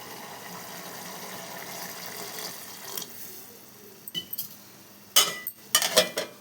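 Water runs steadily with a soft hiss as more is added to a simmering eggplant curry, followed by a few clinks of a metal pot and utensils near the end.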